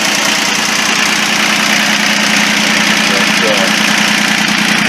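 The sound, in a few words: diesel engine of a modified garden tractor idling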